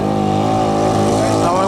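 Engine of a modified John Deere lawn tractor at a truck and tractor pull, a loud close droning roar held at moderate revs with a slight pitch shift, and a voice talking over it.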